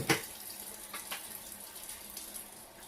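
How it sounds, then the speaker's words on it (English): A kitchen tap runs during handwashing, a soft continuous splash of water with a brief louder gush at the start and light spatters afterward, fairly quiet and with no talking. "First step, you need to wash your hands."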